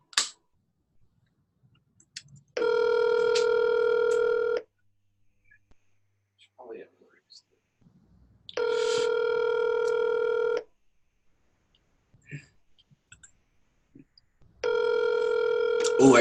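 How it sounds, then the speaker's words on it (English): A telephone line gives long beeping tones: three steady two-second tones separated by quiet gaps holding faint clicks and brief sounds. "you always want to do a double dial"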